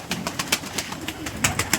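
Several soft pigeon coos repeat in a loose rhythm, close by, from pigeons being let out to drink, with no talking.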